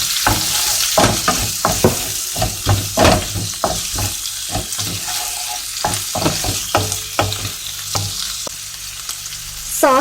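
Shrimp sizzle loudly in a hot pan while a utensil stirs and scrapes repeatedly, giving a dense run of clacks and hissing frying noise close by, with a brief watery patter near the end.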